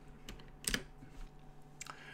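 Typing on a computer keyboard while entering a token name into a crypto wallet app: a few sparse, faint key clicks with a brief cluster of taps in the middle, no speech.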